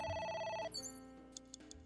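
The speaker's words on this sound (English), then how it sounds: "It's ringing again." Telephone ringing in the video game AI: The Somnium Files: a short electronic ring that stops, followed by a few faint clicks.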